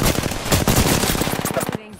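Close, loud rapid-fire automatic gunfire from a shooter video game, a dense continuous burst of shots lasting nearly two seconds before cutting off abruptly.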